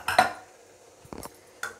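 Metallic clanks and clinks of a pressure cooker lid being opened, a sharp clatter followed by two lighter knocks, close by.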